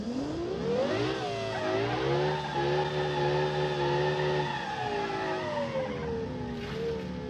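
A car in the Automation racing game revs and accelerates with a steady engine whine, its pitch sliding up and down, loud and continuous with light tire squeal.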